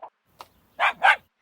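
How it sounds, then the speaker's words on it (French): A farm dog gives a few short barks and yips, two faint clipped ones followed by two louder, closer barks in quick succession, heard alone with no talking. "Un chien."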